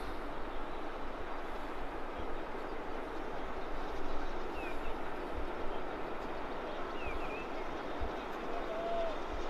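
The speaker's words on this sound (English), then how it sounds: "Here comes the steam train again." A steady rumbling steam train noise fills the clip, a continuous broad roar from a moving steam locomotive passing fairly close.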